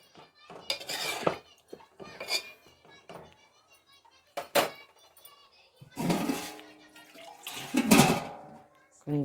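Water is poured into a cooking pot while preparing veg palav with meal maker and potato curry, giving splashy, clattering bursts between quieter gaps, loudest toward the end.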